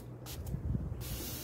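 Short hissing bursts from a spray can as a stick is sprayed for cleaning animal molds, two quick puffs followed by a longer sustained spray, close and fairly quiet.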